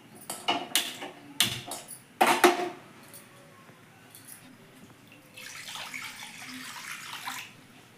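Forest-gathered food being washed in hot water, with a few sharp knocks and clatters of a pot early on, then a steady splashing wash of water later, close and without any talking.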